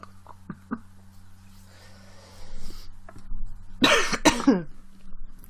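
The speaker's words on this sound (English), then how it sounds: "oh my god, I coughed" A single harsh cough bursts out near the end, loud and close, after quiet stretches with a few small taps and a soft breathy rustle.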